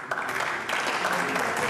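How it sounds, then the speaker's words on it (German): Members of a parliamentary chamber clap in a dense, fairly loud burst that continues steadily, with a voice talking faintly underneath. "bevor die FPÖ hier klatscht"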